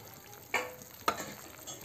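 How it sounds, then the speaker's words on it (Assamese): A spoon stirs boiling sugar syrup in a pan for lal mohan gulab jamun, giving two brief scraping strokes about half a second apart over a faint, steady bubbling hiss. "এনেকৈ এবাৰ লৰাই দিলে হ'ল।"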